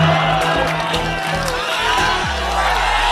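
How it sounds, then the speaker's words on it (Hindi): An audience at a comedy performance by teacher Subhash Charan cheers and claps, a dense burst of crowd noise with shouts over a low rumble, heard briefly and loud. "जोरदार तालियां"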